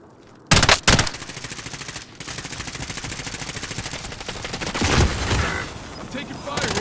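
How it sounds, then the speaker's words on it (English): Rapid automatic gunfire from the video game Call of Duty Warzone, opening with sharp loud bursts and then settling into a sustained, evenly pulsing stream of shots that swells toward the end. "I'm taking fire here."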